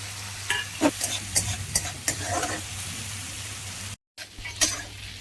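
Tomatoes, green peas and spices are sautéed in a pan for a Maharashtrian snack. A utensil clacks and scrapes through the frying in an irregular rhythm, and the sound cuts out briefly near the end.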